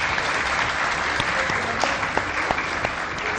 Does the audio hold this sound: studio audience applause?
yes